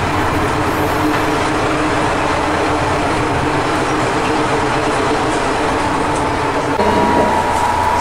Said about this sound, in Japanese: 列車は間もなく釧路の駅に到着